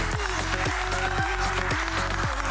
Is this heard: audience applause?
yes